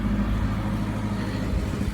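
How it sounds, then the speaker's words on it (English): A low, rumbling tractor engine chugs steadily nearby, a deep continuous drone without voices. "It is the tractor from my brother-in-law to tow Kani's tractor out."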